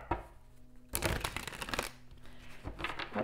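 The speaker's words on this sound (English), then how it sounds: "I'm just going to give the cards three shuffles." Tarot cards are shuffled in a few quick bursts of crisp riffling and crinkling, close and fairly loud, with short pauses between them and no talking.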